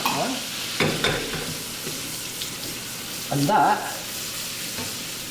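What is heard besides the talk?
lemon juice sizzling in browned butter in a pan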